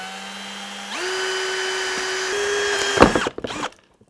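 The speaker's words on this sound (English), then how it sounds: "you get a nice clean hole with that Forstner bit" A Forstner bit on a power drill bores a hole through molded plastic on a fishing kayak hull. The motor winds up to a steady high whine, strains as the bit bites, then cuts off abruptly.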